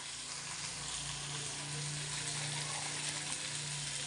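Dill greens sizzling in a pan with mung dal, a faint, steady frying hiss that continues without a break, along with a low hum in the background.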